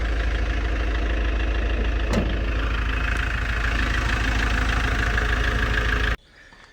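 Iveco Daily 2.3 diesel van engine idling just after start-up, a steady loud low rumble with a regular diesel clatter, running evenly for about six seconds before cutting off abruptly to quiet.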